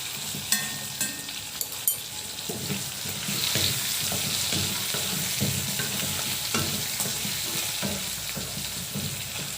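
Partly cooked rice is stirred in an iron kadai while being made into chicken-stock khushka, a soft continuous sizzle with scraping stirs and a few sharp knocks early on, close and without speech.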